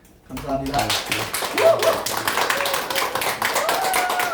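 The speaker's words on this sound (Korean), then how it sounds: "우리 정승관 대표님 나오실 때 힘찬 박수로 맞이하겠습니다." Energetic audience applause at a church vision center gathering, a dense and loud burst of many hands clapping that starts abruptly and holds steady, with a speaker talking over it.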